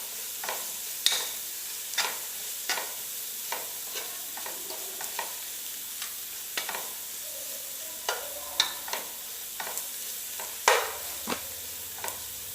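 Chicken is sautéed and stirred in a pan for kabsa-style rice, with soft frying sizzle under repeated sharp scrapes and clinks of a spatula against the pan, coming in an irregular rhythm close to the listener.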